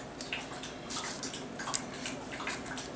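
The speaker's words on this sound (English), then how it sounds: "you hear my puppy drinking water over there" Puppy laps water nearby, a faint run of soft wet splashy ticks and drips repeating irregularly over a quiet room background.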